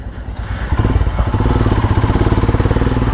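A trail motorcycle near Lonavala rumbles up close, its engine settling from an uneven idle into a loud, fast, steady pulsing throb.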